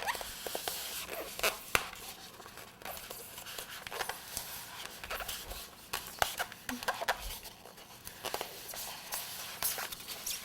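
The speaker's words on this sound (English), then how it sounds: "take a serrated knife like this, in at an angle, and start to cut" A serrated knife saws through pieces of a Valentine's cupcake tower, giving soft, close rubbing and rasping strokes in an uneven rhythm with small scuffs, fairly quiet and heard without talk.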